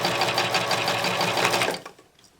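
A serger sewing machine runs at a steady, fast whir as fabric with beads is stitched through it. The close, loud whir then stops abruptly near the end, leaving quiet.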